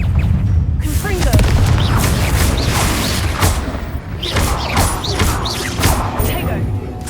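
A Confringo fire blast spell cast in the video game Hogwarts Legacy, with loud booming bursts over a dense, continuous game soundscape.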